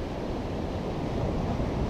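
Ocean waves washing onto a beach during surf fishing: a steady, full roar of surf with a windy hiss, constant and fairly loud with no break or voices.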